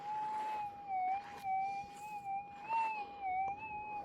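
A metal detector gives a soft, steady warbling tone over a buried target while prospecting for gold, the pitch wobbling gently up and down for a few seconds against faint outdoor background noise.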